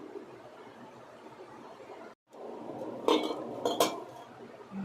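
Boiled dal is taken out of a pressure cooker, a soft background hiss giving way to a cluster of metallic clinks and knocks from the utensils, close by.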